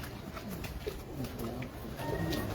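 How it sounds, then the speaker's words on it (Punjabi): Flying pigeons kept by a fancier at Paragon City coo in soft, low, repeated calls, steady and fairly close, with faint talk and outdoor noise behind them. "ਇਹ ਉੱਡਣ ਵਾਲੇ ਕਬੂਤਰ ਨੇ ਜਿਨ੍ਹਾਂ ਦਾ ਮੈਂ ਸ਼ੌਕ ਕਰਾ ਰਿਹਾ"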